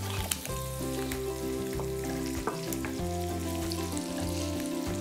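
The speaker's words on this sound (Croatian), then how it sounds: "Krumpir sada na isti način pržimo kao i luk, ali do zlatno-žute boje." Sliced potatoes fry in melted butter in a pan, giving a steady close sizzle with occasional stirring scrapes, heard alone over a faint background hum.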